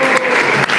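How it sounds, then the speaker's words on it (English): Audience applause at a talk about memories of Srila Prabhupada, a steady, dense wash of clapping filling the whole moment with two brief dips. "Let's give a round of applause."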